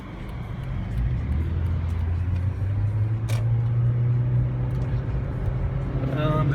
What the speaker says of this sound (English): the traffic might be a little heavy